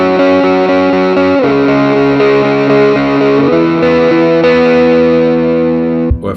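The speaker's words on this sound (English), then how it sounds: "If I wanted to change that tone to say something like a Les Paul, so a little bit thicker, kind of sounds like more of a humbucker." A GTRS S801 guitar modelling a thicker Les Paul humbucker tone. Sustained, slightly driven chords ring out loudly, with a few chord changes, and then a brief clunk at the end.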